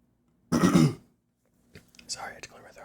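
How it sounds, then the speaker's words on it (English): A single short, close throat clearing comes in a harsh burst, followed after a pause by soft whispered talk. "Sorry, I had to clear my throat."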